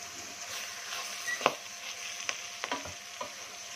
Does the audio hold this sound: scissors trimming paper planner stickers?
no